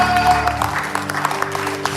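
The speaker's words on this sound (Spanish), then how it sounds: "den un aplauso de gloria del Señor" A church congregation applauds, a short burst of scattered clapping over sustained organ or keyboard tones, moderately loud and close.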